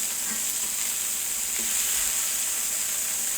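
Burger meat sizzles and fries in a hot pan with a steady, close hiss throughout, no voices over it.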